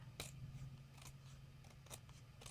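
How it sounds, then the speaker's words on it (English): A used Christmas card is trimmed to fit a page in a few crisp, separate snips, close but faint over a quiet hum, with no talking. "I'm just going to trim it off so that it fits"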